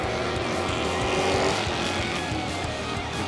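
Dirt track race cars roar together at a local racetrack on a Friday night, a dense, continuous engine drone with revving and tire noise holding steady and loud throughout.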